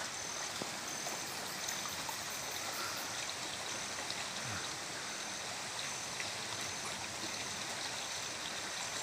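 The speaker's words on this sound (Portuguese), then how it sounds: "a água continua aguando o nosso milharal lá em cima na encosta" Water runs steadily down an irrigation channel feeding a cornfield on a hillside farm, a continuous, even rush with no voices over it.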